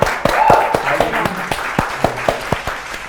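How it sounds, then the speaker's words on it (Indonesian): Studio audience applause on a quiz show, a short burst of scattered, uneven clapping that thins into separate claps, with a faint voice underneath. "10 poin untuk tim A. Tepuk tangan."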